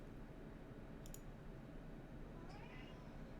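A pet cat called Mr. Kitty gives a couple of brief, faint meows over a steady background hum, with no talking.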